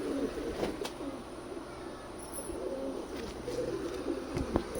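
Kamagar pigeons with red eyes and clipped wings, kept in a sale cage, cooing in a low steady murmur with a few sharper calls, moderately close, no talking.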